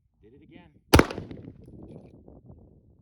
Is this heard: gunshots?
yes